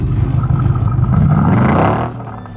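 A THOR active exhaust system on a car simulates a V8 engine note, giving a loud, steady low rumble that swells slightly and then drops off sharply near the end.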